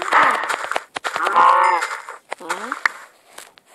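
A cow in a video game lets out several short, loud moos in quick succession, close and abrupt, with sharp hit sounds between them.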